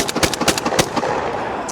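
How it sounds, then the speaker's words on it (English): Several blasts from a 20 gauge Black Aces SMAX semi-auto shotgun firing high velocity steel shot, loud, sharp reports in quick succession, then a fading outdoor tail. "We shot the high velocity steel shot first."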